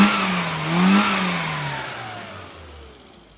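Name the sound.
tuned Mini 1000 engine revving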